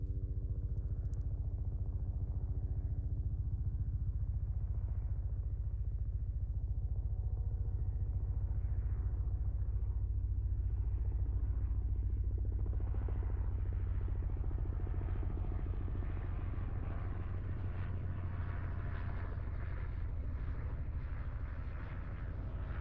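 A Bell 206 helicopter in flight, heard from the left side of the aircraft, gives a steady low rotor thump and engine rumble that builds slightly louder and rougher partway through.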